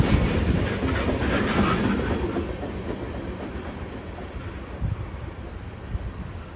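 A CSX freight train led by a pair of GP40 wide-cab locomotives rolls past on the former Pan Am Railways line in southern Maine, a loud close rumble with rail clatter that slowly fades and thumps at wheel joints.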